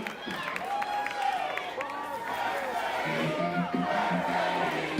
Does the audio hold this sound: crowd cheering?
yes